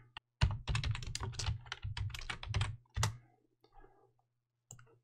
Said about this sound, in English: I begin to type on screen.